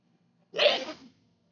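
A single close, loud sneeze bursts out and fades within about half a second, with quiet before and after and no talking.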